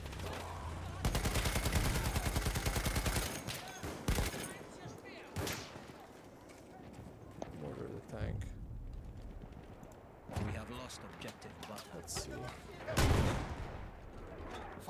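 Mortar and gunfire in a Battlefield V match: a rapid burst of automatic fire gives way to scattered heavy blasts and bangs, with voices talking over the combat.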